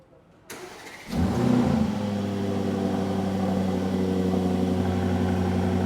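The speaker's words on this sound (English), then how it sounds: "So we're going to try and start this car up." An Aston Martin DB12 starts with a click and a sharp rising roar, then settles into a loud, steady idle close by.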